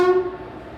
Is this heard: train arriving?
yes